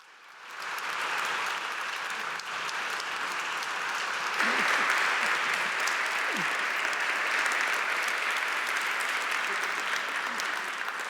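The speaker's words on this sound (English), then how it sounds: "please join me in applauding the 16th president of Loyola Marymount University, President and Professor Timothy Law Snyder" A convocation audience at Loyola Marymount University applauds its president, a large crowd clapping loudly and steadily for about ten seconds after a quiet start.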